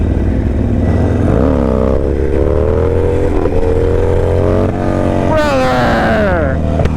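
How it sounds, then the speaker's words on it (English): A Harley-Davidson motorcycle revs loud and close during a wheelie on a lot, its pitch climbing and falling with throttle, while a person shouts and talks over it. "This is so much easier than the last wheelie I tried, or the last Harley I tried."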